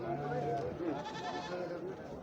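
A goat bleats at a livestock market, a few wavering cries close by amid the murmur of people talking.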